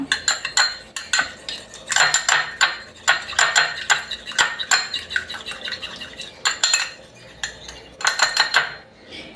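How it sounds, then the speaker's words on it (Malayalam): A spoon stirring a lemon juice mixture in a bowl, producing rapid repeated metallic clinks and scrapes in uneven bursts, close and fairly loud. "പിഴിഞ്ഞൊഴിച്ചതിന് ശേഷം ഇതെല്ലാം കൂടി നമുക്ക് നന്നായിട്ടൊന്ന് മിക്സ് ചെയ്യണം"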